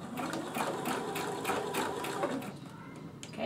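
A sewing machine runs a steady straight stitch joining chiffon fabric onto a t-shirt, a fast even mechanical chatter close by that slows briefly near the end.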